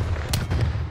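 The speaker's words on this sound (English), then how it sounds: "Throwing stun." A stun grenade goes off in Black Ops Cold War multiplayer, one short, loud burst with a booming low end and a bright crack, then a brief fading rumble.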